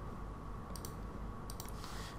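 Computer mouse clicks sound during an online ad setup, a few quick faint clicks in two small clusters over a low, steady room hum, with no talking.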